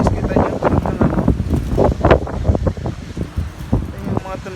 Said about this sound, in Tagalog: Ang ingay dahil sa sobrang lakas ng hangin.